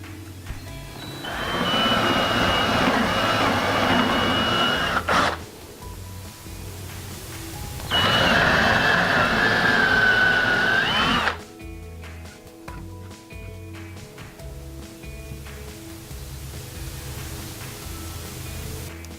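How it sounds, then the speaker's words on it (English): A power drill bores holes into a block of wood for 1/4 bolts, two loud sustained whirring bursts of a few seconds each with a rising whine, separated by quieter pauses and low background hum. "drill and tap some holes in this block of wood to accept the 1/4 bolts"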